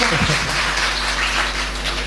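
An audience at an astrology talk breaks into steady applause, a dense, continuous wash of clapping hands over a low electrical hum.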